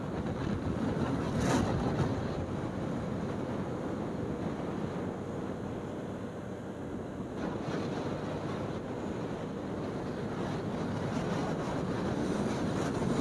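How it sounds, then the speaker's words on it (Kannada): Strong wind roaring steadily over a helmeted motorcycle rider at about 80 on a mountain road toward Ladakh, a dense continuous buffeting rush that fills the clip with no talk. "ಜಬರ್ದಸ್ತಾಗಿ ಹೊಡಿತಾ ಇದೆ ಗಾಳಿ"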